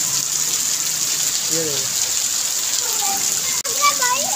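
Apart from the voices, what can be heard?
heavy rain and water flooding a house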